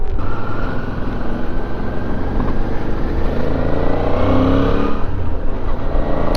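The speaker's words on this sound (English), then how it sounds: "I love like squeezing the throttle through the corners on this bike. It just feels so good with that V-twin engine." Suzuki V-Strom 650 V-twin motorcycle accelerating through corners, a loud, steady engine drone with rising pitch and heavy wind rush close to the rider.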